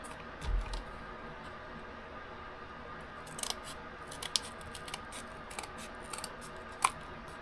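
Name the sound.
cutting an octagon insert for a box to fit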